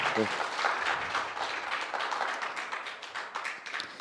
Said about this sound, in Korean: 박수 자제 부탁드리겠습니다